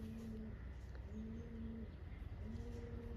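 A domestic pigeon coos softly nearby, three steady, low, drawn-out coos repeating at a regular pace over a faint background hum.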